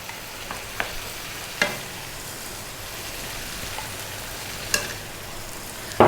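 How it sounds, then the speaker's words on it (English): Shrimp frying in an Indian restaurant-style masala curry over slightly above medium heat, a steady soft sizzle broken by a few sharp stirring clicks and scrapes. "And these are cooking shrimps."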